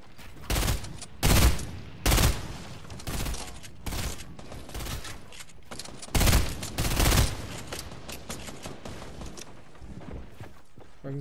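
Gunfire in the Fortnite battle royale, a series of loud close shots and short bursts spaced irregularly, with quieter stretches between, and no talk.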